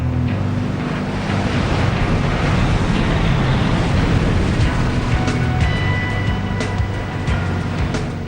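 Ocean surf rolling onto a Hawaiian beach, a steady, loud roar of breaking waves that continues without pause, with wind buffeting the microphone.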